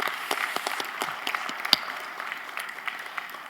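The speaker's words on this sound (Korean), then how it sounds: "수고하신 분들에게 우리 격려하는 뜻으로 박수 한번 하겠습니다" A church congregation gives a round of applause during a Friday night service, a soft, steady patter of many hands heard from a distance with a few sharper claps standing out.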